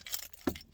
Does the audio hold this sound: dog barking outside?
no